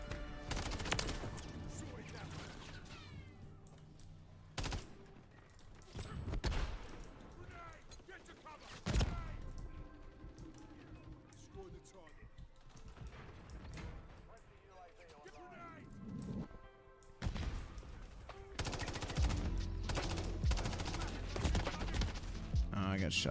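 Gunfire in the Call of Duty Modern Warfare 3 video game: scattered sharp shots and short bursts, some loud and near, recurring irregularly over game sounds while someone talks throughout.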